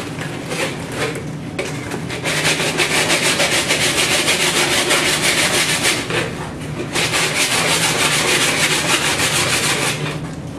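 Sanding the edge of a hand-laid glass fibre and polyester laminate part produces loud, close, continuous abrasive rubbing in long strokes, with two short pauses between passes and no voices.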